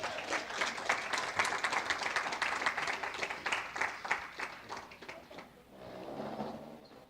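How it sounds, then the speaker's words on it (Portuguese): Audience applause during a talk on the Protestant Reformation, a dense burst of clapping that fades toward the end, fairly faint and without talk. "Uma salva de palmas para o Papa,"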